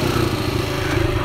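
A motorcycle engine runs steadily and close by, a continuous mid-pitched drone with a low rumble throughout, no voices over it.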